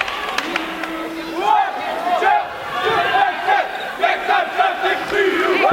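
A crowd at a girls' high school basketball game in Decorah shouts and roars in a loud, sustained swell of many voices that rises and falls continuously, with scattered individual yells standing out near the court.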